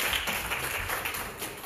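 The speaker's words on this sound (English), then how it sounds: "Give them a big round of applause." A Baptist church congregation applauding during a Sunday morning worship service: a brief, even wash of many hands clapping together, filling the room without a break.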